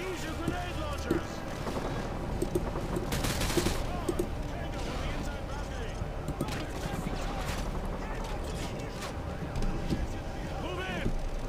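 Dense gunfire and explosive launcher blasts from a Call of Duty: Modern Warfare 2 mission crackle continuously, with a sharp burst standing out at one point amid sustained battle noise and faint voices.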